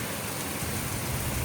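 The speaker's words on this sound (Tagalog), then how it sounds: "Grabe, kusog kayong ulan." Steady, dense hiss of heavy rain pouring down, constant and loud, with no voices.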